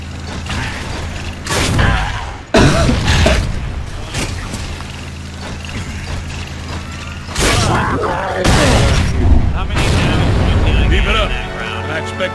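Frag grenades go off in the Gears of War video game, with several loud booming blasts spread across a busy, noisy firefight.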